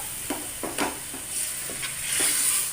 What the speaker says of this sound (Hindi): अब मैं इसे अच्छे से भून लूंगी जब तक मटन का कलर चेंज ना हो जाए